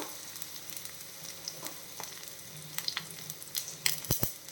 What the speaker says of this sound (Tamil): அப்புறம் கொஞ்சம் கருவேப்பிலை இதை சேர்த்து நல்லா வதக்கிடலாம்